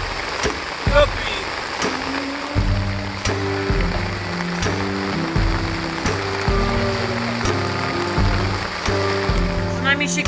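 Steady rain hisses throughout, layered with a low, shifting mechanical hum and occasional sharp taps.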